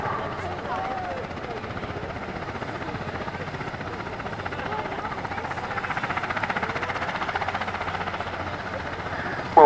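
A Westland Wessex HU5 helicopter flies at an RAF air show, its steady rotor and engine drone filling the air at moderate distance while a voice talks over it.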